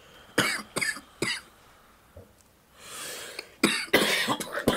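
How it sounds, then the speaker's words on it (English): Several people cough in short, harsh bursts, a cluster of coughs early on, a quieter lull with a soft breathy rush, then another loud run of coughing near the end. "Put our coughs on a loop."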